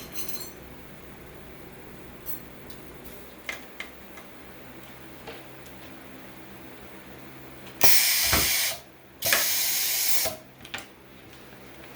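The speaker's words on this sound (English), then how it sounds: "Look at how nice that sets a grommet and a washer in this webbing." An automatic grommet machine sets a grommet and washer into heat-welded 2-inch webbing on fence mesh, giving a few faint ticks followed by two loud bursts of pneumatic hiss, then quiet.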